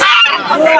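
A goose at a rural poultry market gives one loud, close, nasal honk lasting under a second.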